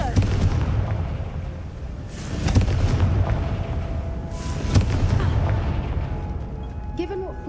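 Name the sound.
Confringo blasting spell explosion, from a Hogwarts video game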